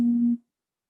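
A single steady electronic phone call-waiting beep holds for about a third of a second, then cuts off into silence.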